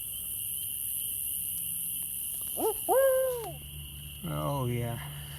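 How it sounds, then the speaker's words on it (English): Owl hooting at night beside a campfire cooking spot, a few distinct hoots with falling pitch, moderately near, over a steady hiss of insects and background noise. "there's an owl"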